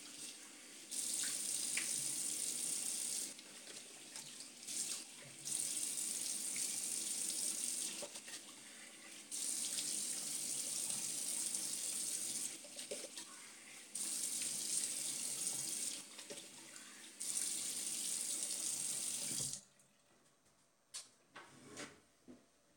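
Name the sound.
tap water running while rinsing off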